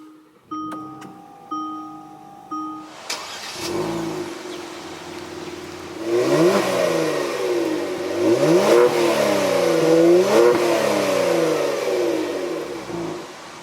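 A 2020 Kia Stinger GT2 engine cranks and catches after a few short electronic chimes, then settles into an idle and is revved several times in rising and falling sweeps.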